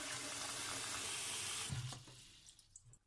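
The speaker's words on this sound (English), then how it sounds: "but I do have a really big pot I can fill up." Tap water gushing into a large pot, a steady broadband rush that abruptly stops partway through, leaving faint drips and small clinks in a quiet room.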